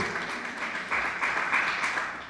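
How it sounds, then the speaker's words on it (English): Comedy-special audience clapping and applauding through the whole stretch, a steady broadband patter that swells briefly in the middle, with no talk over it. "I don't know why y'all clapping"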